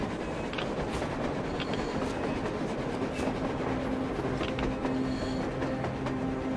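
A train running on the surface in the Metro Exodus game, a steady continuous rumble of rail noise with low hum and faint clatter, heard alone at a constant level throughout.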